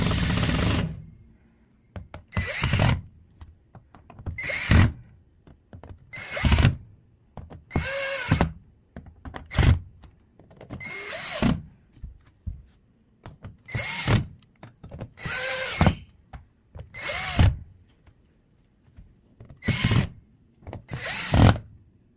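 A power drill drives screws into an IKEA STORKLINTA chest of drawers in short, repeated whirring bursts, about a dozen in all, each a second or so long with brief pauses and handling clicks between them, close and fairly loud.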